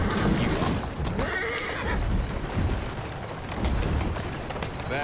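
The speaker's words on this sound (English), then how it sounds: "Who's a good horse? You are." A horse in the video game Assassin's Creed Syndicate whinnies with a shaky, rising-and-falling neigh, followed by hoof clip-clops and snorts, all fairly close.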